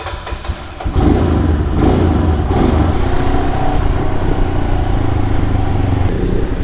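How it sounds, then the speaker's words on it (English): A Royal Enfield Himalayan motorcycle rides through city streets, its engine note steady and loud with a continuous rumbling drone and wind buffeting, after a brief quieter moment at the start. "I'm out for another city ride on my Himalayan"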